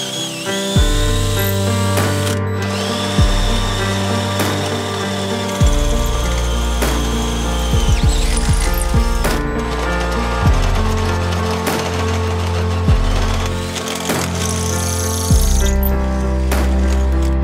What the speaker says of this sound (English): now we gotta drill out this back hole